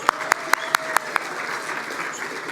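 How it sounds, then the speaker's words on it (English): Audience applause at an evening award benefit program, a crowd clapping with several sharp, loud claps standing out near the front, then thinning into a softer patter after about a second. "Let's give her a hand clap."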